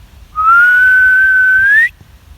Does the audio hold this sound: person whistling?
yes